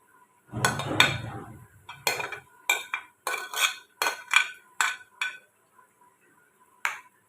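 A spoon clinks and scrapes in a bowl while garlic paste, coriander and dried fenugreek are mixed into a potato donut mixture, giving a soft rustle and then a series of sharp, evenly spaced metallic taps close by.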